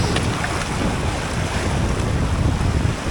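Knee-deep river water churns and splashes steadily during a wade across the Hawdon River crossing on a freezing, snowy trek, with a broad, continuous rushing wash and wind buffeting the microphone throughout.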